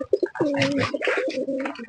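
A Jade Spring pigeon in a loft coos in close, throaty bursts, a few short notes followed by a longer rolling coo, loud and alone.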